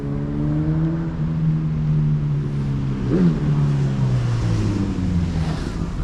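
Engine droning on a Tokyo street near the old Ministry of Justice building in Chiyoda, with a steady motor hum that shifts pitch midway as a vehicle passes close, no talking.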